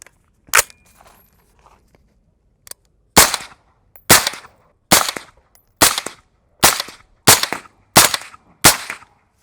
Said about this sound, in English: I'm gonna go ahead and put some rounds through this guy.